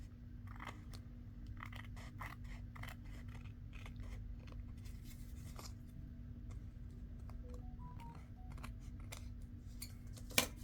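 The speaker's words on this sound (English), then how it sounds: "Might have to trim just a little tiny bit more off of there." Scissors trim paper for an envelope project: a run of crisp, close snips and small paper rustles over a low steady room hum, fairly quiet with no talking.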